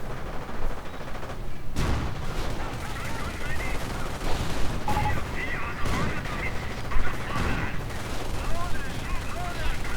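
Rifle squads trade rapid gunfire in a real-time strategy battle, a Grenadier squad caught by two squads of riflemen, with dense crackling shots and bursts continuing steadily under a commentator's voice.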